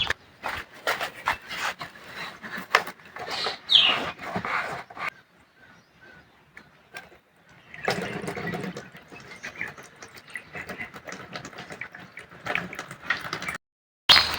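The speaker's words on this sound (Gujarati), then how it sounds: "જો ડબલું ભરી લીધું છે આપણે" Water pours into a container at a village farm in bursts, splashing and gurgling close by, with brief pauses and handling knocks between fills.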